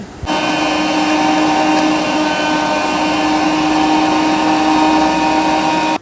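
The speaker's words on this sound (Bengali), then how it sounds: "ড্রাই রোস্ট করে নিয়ে মিক্সার গ্রাইন্ডারে গ্রাইন্ড করব" Mixer grinder running steadily at full power, grinding dry-roasted nuts and semolina, a loud continuous motor whine that starts abruptly after a brief pause and holds without letup to the end.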